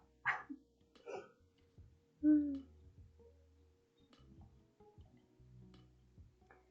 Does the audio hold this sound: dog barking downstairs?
yes